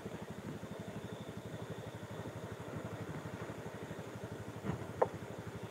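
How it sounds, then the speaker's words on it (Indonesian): A motorcycle engine idles nearby on a quiet, empty road at night, a low steady putter that holds evenly throughout, with one sharp knock near the end. "Kok ada motor di sini ya?"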